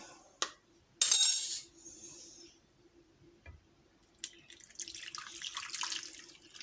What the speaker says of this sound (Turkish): Şöyle koyacağım salçalı suyumu ilave edeceğim.